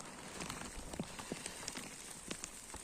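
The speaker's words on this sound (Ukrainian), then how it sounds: "А дощик єлі-єлі падає. О, ні, зараз трошки сильніше почав." Light spring rain patters softly and continuously with scattered drip taps outdoors, faint and steady with no voices.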